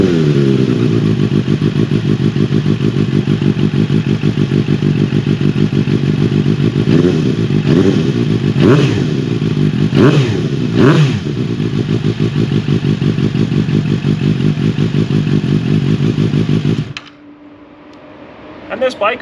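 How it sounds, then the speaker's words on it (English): A Suzuki GSX-S750 motorcycle engine idles loud and close with a steady, throbbing rumble. A few brief thumps sound partway through, and the engine cuts off near the end, leaving quiet background. "I'll go ahead and fire it up here. We'll take a quick listen to it while it's sitting here"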